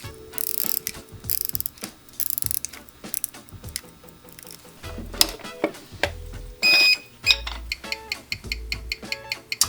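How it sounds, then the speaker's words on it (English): Mechanical wristwatch crown being wound by hand, a close, loud run of sharp ratchet clicks in quick bursts with brief pauses between turns, no talking. "let's give it a couple winds and check it on the timing machine"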